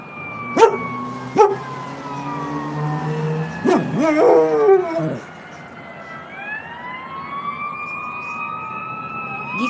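A dog howls and barks along with a wailing emergency siren, its voice rising in pitch; the dog falls quiet as the siren continues alone.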